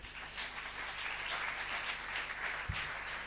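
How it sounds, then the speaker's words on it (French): A church congregation applauding during a French-language service, steady dense clapping from a large crowd filling the room, continuous and even throughout with a faint voice underneath. "Amen, on peut acclamer."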